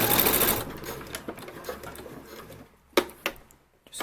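A sewing machine stitches skirt fabric in a short, close burst of rapid whirring, then falls to quieter scattered clicks and taps of handling with a couple of sharp knocks.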